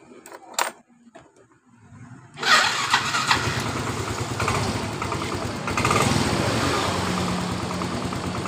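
A Yamaha Mio automatic scooter with a new battery fitted starts after a couple of clicks and a jangle of keys, catching quickly and settling into a steady close-up idle with a slight rise in revs.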